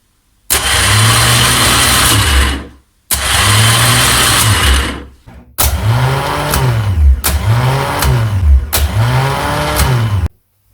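A rebuilt starter motor from a Triumph Trident T160 spins on the bench in four loud, close bursts, each a few seconds of whirring with a wavering low drone, separated by brief silences.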